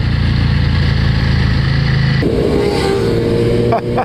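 An Erik Buell Racing motorcycle engine runs loud and close with a steady throbbing rumble that shifts abruptly partway through to a different, lower-pitched note.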